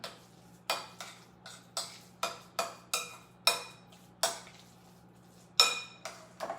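Meat mixture with garlic, salt and pepper being mixed in a bowl, a series of separate clinks and taps of utensil against the bowl at irregular intervals, close and crisp over a faint low hum.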